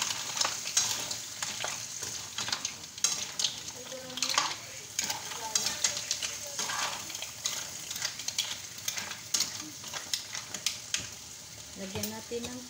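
Mussels sizzle and fry in a pan while being stirred, with repeated scraping and clattering of a utensil against the pan over a steady hiss; a voice speaks briefly.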